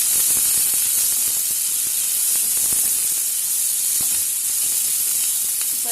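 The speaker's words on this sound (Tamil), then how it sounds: "இப்போ வெங்காயத்தை போடுறேன். வெங்காயம் நல்லா சதக்கட்டும்." Sliced onions sizzle as they sauté in hot oil in a pan while making potato bonda, a steady close-up hiss and crackle with faint scattered pops and no talking.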